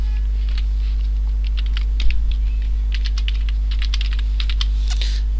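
Computer keyboard typing as an admin name and password are entered, with rapid, irregular key clicks over a steady low hum and no speech.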